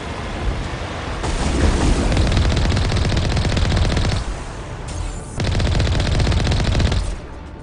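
Heavy rapid-fire weapon pounding in Mass Effect Legendary Edition, loud continuous bursts in two long runs separated by a brief pause, with no speech.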